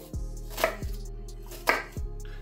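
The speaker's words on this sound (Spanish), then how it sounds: "Hoy en nuestra bechamel le vamos a echar una cebolla y dos dientes de ajos. Así que venga, vamos a picarlo." A knife chops an onion on a cutting board, with three or four separate firm knocks and soft crisp slicing sounds between them, close and with no talking.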